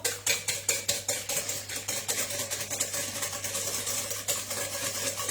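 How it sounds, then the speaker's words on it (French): Liquid ingredients for Starbucks-style blueberry muffin batter are stirred by hand in a bowl, making a rhythmic series of swishing, scraping strokes about twice a second. A steady low hum runs underneath. "là je suis sur la partie liquide, donc je mélange pour l'instant"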